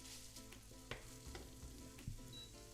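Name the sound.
bacon lardons frying in melted margarine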